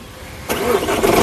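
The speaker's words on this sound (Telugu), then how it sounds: "పుష్ స్టార్ట్ బటన్తో ఈ కార్ని స్టార్ట్ చేయాల్సి ఉంటుందండి" A 2017 Jeep Compass Limited Edition started with its push button: after a short quiet lead-in the engine cranks and catches, then settles into a steady, fairly loud close idle.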